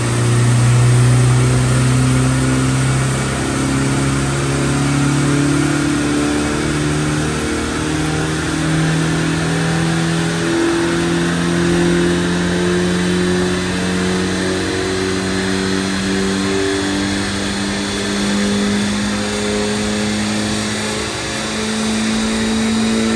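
A turbocharged VW Golf Mk2 engine holds steady high revs on a dyno, a loud continuous drone with slowly wavering pitch and turbo whine throughout, close and alone.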